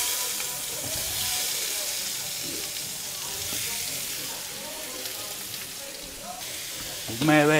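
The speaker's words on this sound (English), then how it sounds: "we gotta treat it like a stir fry and chuck it up and down" Beef and onions for Peruvian lomo saltado sizzle and fry steadily in a hot pan, a loud continuous hiss with a sharper clatter at the very end.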